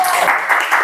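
A classroom or workshop audience applauds for Jun in a short, dense burst of clapping, close and steady for under a second.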